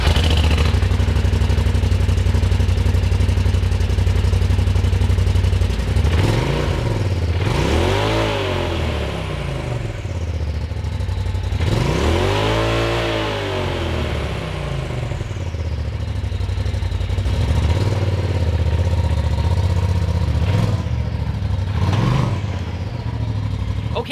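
A Polaris RZR XP Turbo side-by-side with a GGB exhaust idles loudly, then revs up in several rising and falling bursts, with rumbling exhaust throughout.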